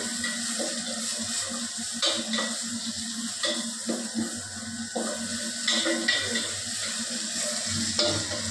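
Onions frying in a pan on a home stove, a steady broadband sizzle with occasional clicks and stirring scrapes throughout, no talk over it.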